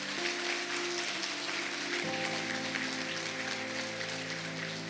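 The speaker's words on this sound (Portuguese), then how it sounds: "Pode aplaudir Jesus, pode aplaudir." Continuous applause from a church congregation, a soft even wash of clapping over sustained organ or keyboard chords that shift midway.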